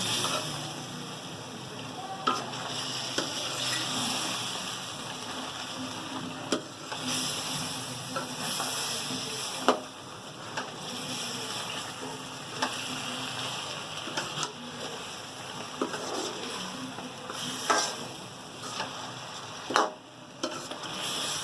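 Dhaba-style chicken bhuna masala, meat and spice paste, sizzles steadily in a pan while being stirred, with scraping strokes and a few sharper knocks against the pan over a continuous frying hiss.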